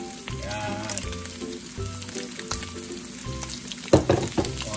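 Onions fry with browned pork in a pan for a crispy vegetable pancit with shrimp, a close, continuous sizzle with a few clinks and a sharp burst of stirring near the end.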